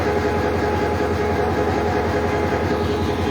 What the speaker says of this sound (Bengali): ওই যে রামসাগরের রেক, নিয়ে যাওয়া হলো।